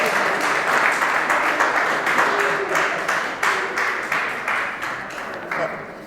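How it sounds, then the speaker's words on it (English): Audience applause at a justices of the peace commissioning ceremony in Clarendon, a steady, fairly dense round of clapping that slowly fades over several seconds, with faint voices mixed in. "The applause sound a little weak."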